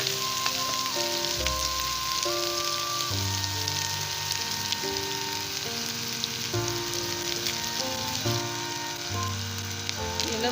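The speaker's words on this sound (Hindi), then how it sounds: "ये मैंने ऑयल में लहसुन अदरक शामिल कर दिया, इसको फ्राई कर रही हूँ।" Garlic and ginger frying in hot oil, a steady close sizzle running throughout with background music over it.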